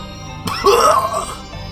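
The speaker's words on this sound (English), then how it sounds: "He coughs up blood" A single rough, throaty cough or throat clear, close and loud, with a short strained vocal tail.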